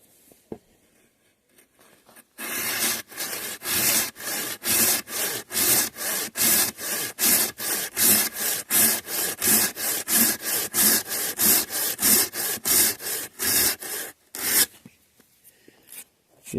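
A hand saw cuts through wood in steady, rhythmic back-and-forth strokes, about two dozen rasping pulls close up, starting after a quiet pause and stopping near the end; the saw's teeth have just been set.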